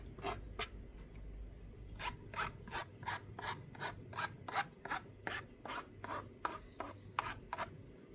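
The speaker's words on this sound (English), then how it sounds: "I'm just going to file the burr off now." A hand file rasps the burr off a freshly cut pipe end in rapid, regular back-and-forth strokes, close and fairly loud, while the pipe is readied for fitting at a koi pond heater installation.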